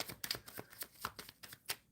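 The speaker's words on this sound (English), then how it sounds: "I'm shuffling for Prabha" A deck of tarot cards is shuffled by hand during a live reading, a series of quiet, close riffling and slapping bursts in an uneven rhythm.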